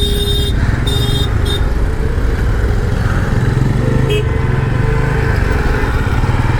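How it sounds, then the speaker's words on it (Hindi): Dense road traffic with motorcycles, including a Pulsar N160, roars loud and steady nearby, a constant engine drone broken by occasional horn beeps. "कितना ट्रैफिक है।"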